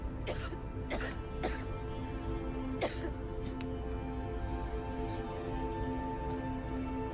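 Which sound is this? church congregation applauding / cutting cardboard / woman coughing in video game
woman coughing in video game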